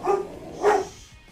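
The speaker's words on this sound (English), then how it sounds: "Dogs are up to no good." Dogs barking: two loud, close barks about half a second apart, each a short sharp burst, then quiet.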